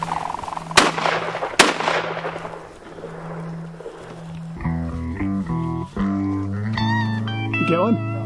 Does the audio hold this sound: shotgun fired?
yes